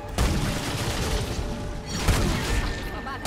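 Sharp bursts of gunfire and a booming blast in the video game Remnant II crackle in quick succession, loud and dense, with a voice briefly under the noise.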